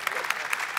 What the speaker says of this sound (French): J'attendais pas les applaudissements